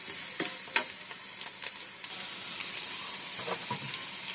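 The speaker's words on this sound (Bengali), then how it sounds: "আমার কেটে নেওয়া রসুন আর পেঁয়াজ। আমি ভেজে নেব।" Chopped garlic and onion fry in a pan for a spinach and potato dish, a constant bright sizzle broken by occasional stirring knocks and scrapes, near and steady throughout.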